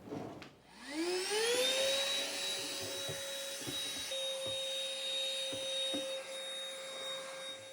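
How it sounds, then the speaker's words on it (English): A vacuum cleaner whirs up to speed and runs steadily with a high whine inside a kitchen spice drawer, its pitch dipping briefly as the nozzle bumps and scrapes around. "I need to vacuum out this drawer"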